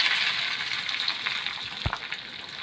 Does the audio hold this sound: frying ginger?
yes